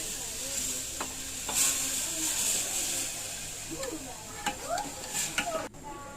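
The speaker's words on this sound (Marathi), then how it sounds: "टोमॅटोची प्युरी टाकायची आहे।" Tomato puree sizzling in a hot pan as tomato kadhi is stirred, a steady frying hiss with scraping stir strokes and a few clinks of utensil on pan, close and moderately loud.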